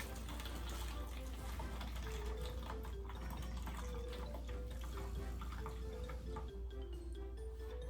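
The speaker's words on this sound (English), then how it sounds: "Now you're going to pour 1/2 cup of the hydrogen peroxide into the bottle." Hydrogen peroxide poured into a bottle for elephant toothpaste, a continuous liquid fill with a rising gurgling pitch as the bottle fills, close and faint over a low steady hum.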